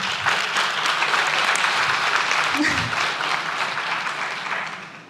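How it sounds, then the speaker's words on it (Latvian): Audience applause at a panel discussion event, a dense, steady wash of many hands clapping that carries on throughout and tapers slightly at the end, with a brief voice heard faintly beneath it. "vēlreiz varu palūgt aplausus tiešām"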